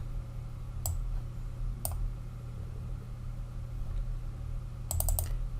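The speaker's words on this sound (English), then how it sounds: "you just start typing customer" Keys click on a computer keyboard in a few short bursts, a couple of single taps followed by a quick cluster of strokes, close over a steady low hum.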